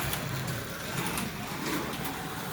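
A Carrera 132 slot car running on a digital track, giving a steady, fairly loud whirring motor drone close by without pauses or speech.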